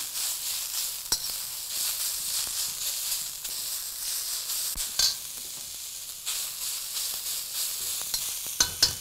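Vegetables for veg chowmein stir-fried quickly on a high flame, giving a constant hissing sizzle with occasional sharp knocks of a spatula on the wok, close up and without speech.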